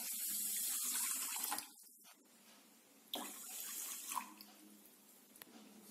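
Water is poured into a pan in a short splashing stream, then stops; after a quiet gap, a second, softer pour follows with light clinks.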